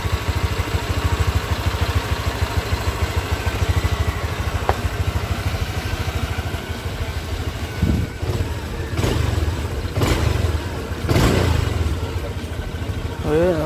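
A Honda Click 125 V2 scooter engine, freshly refilled with Kixx oil, idles close up with a steady low putter, then gives several short revs in the latter half. A person speaks briefly in between.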